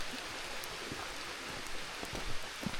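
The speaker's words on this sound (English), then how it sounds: "Walked in the rain, as I'm doing now," Rain falling outdoors around someone on a walk, a steady broadband hiss of drops with a few slightly louder splashes and patters close by.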